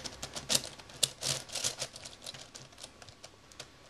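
An MF8 Teraminx twisty puzzle turned quickly by hand, its layers giving off a steady patter of small plastic clicks and clacks, close and fairly quiet, with no voices.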